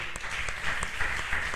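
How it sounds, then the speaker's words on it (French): A church congregation applauds steadily, with a dense patter of many hands clapping close by. "Je disais, est-ce qu'on peut acclamer?"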